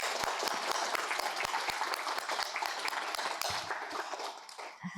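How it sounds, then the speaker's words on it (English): Steady applause from an audience at a half-day compassionate leadership symposium, dense clapping with some sharper individual claps standing out, fairly close and sustained before tapering slightly at the end. "let's give her a round of applause."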